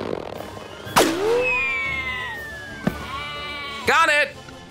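A few sharp bleats ring out between loud cracks and pops, with a long descending whistle-like tone trailing after.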